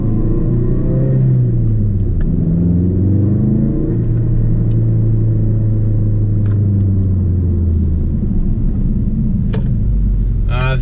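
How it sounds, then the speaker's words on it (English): A 2016 Ford Focus RS fitted with a Steeda rear motor mount gives a loud, steady engine rumble while driving, with a continuous low drone and shifting tones throughout and no voices. "The engine sounded a little beefier, and I got a little vibration in the floorboard."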